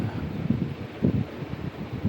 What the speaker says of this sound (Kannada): ನೀವಿಲ್ಲಿ ಕೇಳೋದು ಬರೀ ಗಾಳಿಯ ಶಬ್ದ